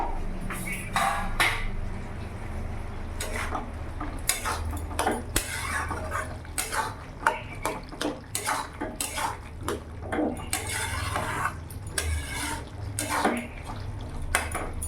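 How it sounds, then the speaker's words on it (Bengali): Metal lid lifted off a simmering pot of mushroom and pea masala on a medium gas flame, heard as repeated clanks and clatters of cookware with faint bubbling beneath. "আমি এবার ঢাকাটা খুলে দেখবো"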